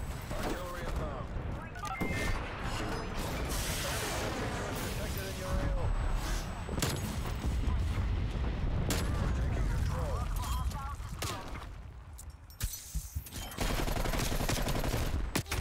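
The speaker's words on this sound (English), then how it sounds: "Hostile artillery targeting active." Artillery shells land and guns fire in a naval combat video game, with repeated heavy booms and crackling bursts over a continuous engine-like rumble while a voice talks throughout.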